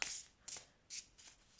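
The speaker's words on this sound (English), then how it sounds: "this one is probably very easy to shuffle" Matte, tarot-size oracle cards are shuffled by hand in several quick riffling bursts, close and crisp, with short pauses between them and no talk.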